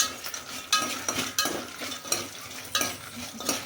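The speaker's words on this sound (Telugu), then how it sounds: "ఇప్పుడు అన్నీ కొంచెం సేపు కలుపుకోండి." A utensil scrapes and stirs spices and garlic repeatedly in a pan for putnala podi, sharp irregular strokes over a soft sizzle, close and fairly quiet, with no voices.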